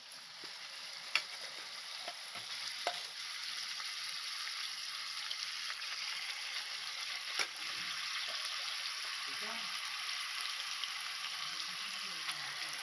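Prawns sizzle steadily in hot oil in a pan while cooking for a prawn biryani, a close, continuous frying hiss with occasional clicks and light stirring scrapes, no voices.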